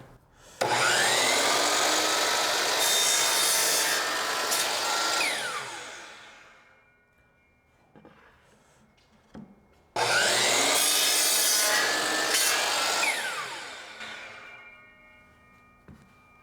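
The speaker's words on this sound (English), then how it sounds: "with these cedar pickets, I can cut 3 at a time with no problem" A power saw cuts through three cedar pickets stacked together, two long loud cuts each ringing for several seconds and trailing off, with a short pause between, no talk.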